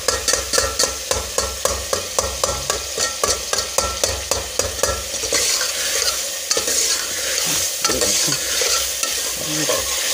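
Tomatoes fry for dal mash with a constant sizzle as a spoon scrapes the pan in a quick, regular rhythm of strokes, loud and close. The stirring then loosens into a continuous frying hiss.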